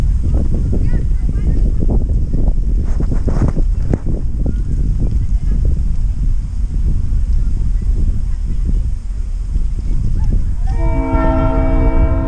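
Big Trees engine no. 2600 rumbles loudly up close for a long stretch, then sounds a sustained multi-tone horn blast near the end, with voices talking beneath the noise.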